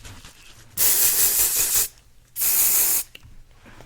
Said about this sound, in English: I'm just going to go ahead and spray this